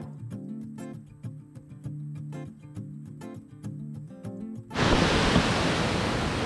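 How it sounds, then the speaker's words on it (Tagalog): Rushing water at Maling Angel Falls, a waterfall in a natural setting, bursts in suddenly as a loud, steady broadband roar after several seconds of soft, ticking music. "Napakagandang pakinggan ng tunog ng tubig."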